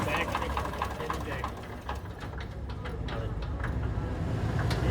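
A Farmtrac 60 tractor engine, after fuel pump work, idles with a steady, dense low rumble and faint knocking texture, close and continuous for the whole stretch, with no talking over it.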